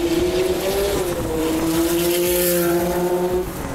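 A 1985 Porsche 962 race car in Rothmans livery drives under load, its engine a loud, steady close drone holding a constant pitch with a slight dip and recovery midway, no voices present.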